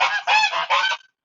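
Geese honk loudly and close by, three harsh calls in quick succession, with no talking.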